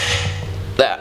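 Torque wrench set to 122 foot-pounds tightening a Track Tec camber lockout kit bolt on a car, giving one sharp click near the end after a stretch of steady ratcheting and low workshop hum.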